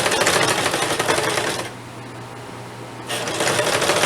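A sewing machine stitches a fabric rice heating bag in a fast, steady whirring run close by, pausing briefly in the middle before starting up again.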